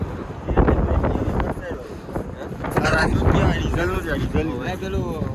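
Wind buffets the microphone in gusty rushes while people talk underneath, a continuous rough roar.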